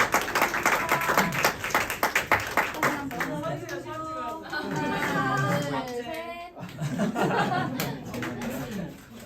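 A church congregation claps during a Korean worship service of thanksgiving and testimony. A burst of clapping comes first, then voices and murmured chatter carry on over and after it.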